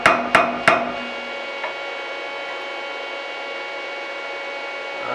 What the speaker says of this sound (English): sometimes you can do it with a brass or a plastic hammer